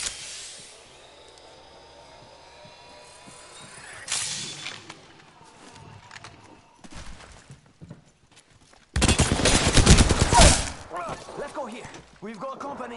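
Gunfire in a video game: sharp whip-like shots and crackles scattered over several seconds, then a loud dense burst of firing near the end, mixed with other game effects.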